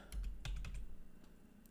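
Quick typing on a computer keyboard into a pricing calculator, a short cluster of close, crisp key clicks that thins out toward the end, with no voices.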